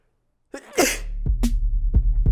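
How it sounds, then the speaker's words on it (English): One sharp human sneeze bursts out close to the mic after a short breath in, followed by a few low, thumping knocks that sound like handling noise. "You ever notice how there's never one sneeze?"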